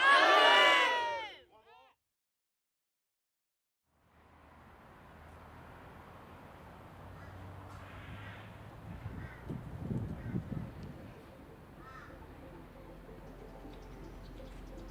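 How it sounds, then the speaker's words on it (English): A crowd at an Indigenous art project event gives one loud, unified yell lasting about two seconds. Silence follows, then a murmuring crowd and scattered background noise rise and continue. "Everyone, yell Yalu!"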